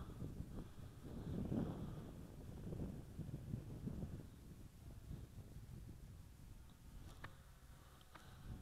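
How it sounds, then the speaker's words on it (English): Steady outdoor wind at about 7 to 10 mph, a continuous low rumbling buffet with gusty swells, strongest early on and easing slightly, with no voices. "The wind is about 10 miles per hour, between 7 and 10 miles per hour right now."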